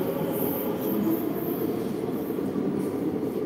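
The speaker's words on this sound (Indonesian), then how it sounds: "Ini kita nunggu kereta yang selanjutnya ya." A Taoyuan Airport express train at the Taipei station platform gives a steady, loud rumble with a thin high whine above it, holding without a break and with no talk.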